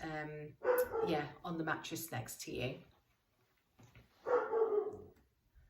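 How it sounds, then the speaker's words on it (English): A pet dog barks at home during an antenatal breastfeeding talk, the short barks mixed in under a person speaking close by. "my dog's barking"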